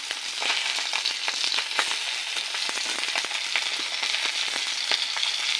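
Fish pieces fry in oil in a wok over a stove, a continuous bright sizzle dotted with sharp crackling pops, close and steady throughout.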